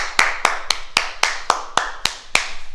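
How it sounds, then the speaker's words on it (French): Hand claps closing a home fitness class after squats, about nine sharp, evenly spaced claps in a steady rhythm, close and distinct with no talking. "On s'applaudit très fort."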